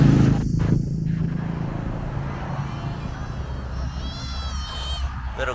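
A cat on a street in Koh Samui gives faint meows over a steady traffic rumble, with a passing vehicle roaring nearby early on.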